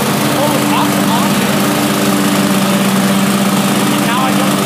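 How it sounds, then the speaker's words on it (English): A riding lawnmower running on cruise control with its blades engaged while cutting grass gives a loud, steady engine drone with an even hum and no change in speed. "And now I put on the pedal and the lawnmower will stay at the same speed."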